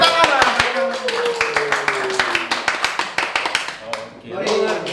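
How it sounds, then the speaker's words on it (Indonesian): A small group gives a burst of quick, close hand clapping that fades toward the end, with people talking loudly over it. "Tepuk tangan."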